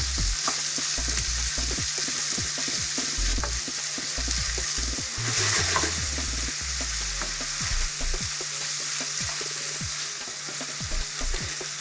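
Meat browning and sizzling in a hot pan on a home stove, with steady frying crackle and repeated stirring scrapes and knocks of a utensil against the pan, close and fairly loud throughout.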